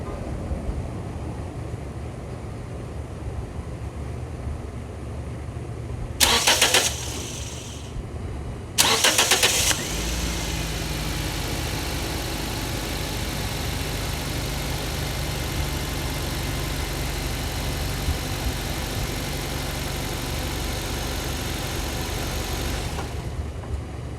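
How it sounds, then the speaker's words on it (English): A Nissan Sentra's engine cranks in two short bursts, catches on the second try, then settles into a steady idle that continues. "So let's go ahead and start the car."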